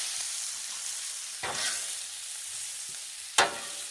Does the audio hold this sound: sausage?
yes